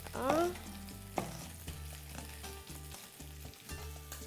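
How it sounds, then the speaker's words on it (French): An onion sautéing in a pan with quails, a soft steady sizzle near and alone, with a few utensil clinks and scrapes along the way. "on va faire revenir l'oignon."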